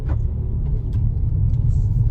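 A modified Mercedes-Benz AMG C43 with tightened suspension, driven in comfort mode, gives a steady low engine and road rumble from inside the cabin, with no talk over it.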